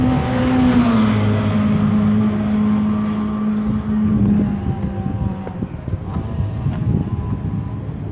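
A fibreglass Ogle race car built on Mini underpinnings laps Brands Hatch during Mini 7 Racing Club testing, its engine droning steadily and dipping in pitch as it passes, with faint background commotion throughout.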